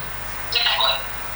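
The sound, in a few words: telephone ringing, incoming call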